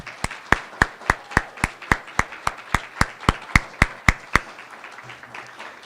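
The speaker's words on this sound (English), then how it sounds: "So I'd like to raise our glasses, or at least a round of applause, to celebrate completion of medical school and pharmacy school for these unique individuals." An audience applauds at a resident white coat ceremony, with a steady run of about fifteen sharp, evenly spaced claps close by that stop abruptly near the end, leaving quiet room tone.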